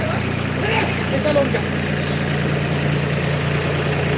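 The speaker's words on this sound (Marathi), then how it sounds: "गावातील ट्रॅक्टर्स या ठिकाणी आपली सेवा देत असताना" A village tractor's engine idles steadily during cleaning of a temple compound before a Shri Ram Janmotsav festival, a continuous low rumble with faint background voices.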